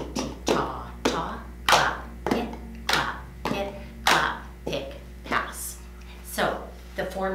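A cup game rhythm played to the Fig Leaf Rag, a steady sequence of about a dozen crisp claps and cup taps on a table, close and evenly spaced, over a low constant hum.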